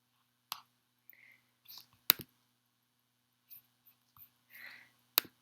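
A computer mouse is clicked while setting up an ad audience in an online editor. A few sharp, close clicks are scattered among soft desk rustles, with short quiet gaps between them and no talk.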